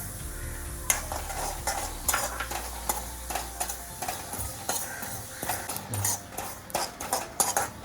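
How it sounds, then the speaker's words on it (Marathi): Poppy seeds roast in ghee in a pan with a soft steady sizzle, while a spoon repeatedly scrapes and stirs against the metal in uneven strokes, close and moderately quiet. "2 टेबलस्पून खसखस थोडी भाजून घेऊया"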